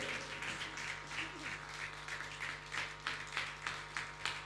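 An audience applauds steadily to welcome Dr. Noella Awele onto the stage, a dense wash of clapping at moderate distance, fairly even throughout with slight swells and no voices over it.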